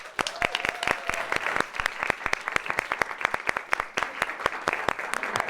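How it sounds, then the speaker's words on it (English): Audience applause for a live band on a talk show stage, dense and steady clapping sustained throughout, loud and close. "Let's clap for them."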